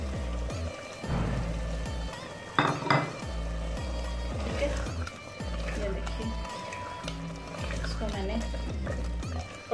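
Chicken fries in a pot with coriander, green chillies and ginger for a restaurant-style chicken handi. A spoon scrapes and clatters against the pot over a soft sizzle while someone talks throughout.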